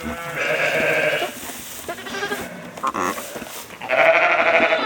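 Sheep bleat loudly and close by during lambing on a farm, several overlapping calls with short gaps between them and no talking.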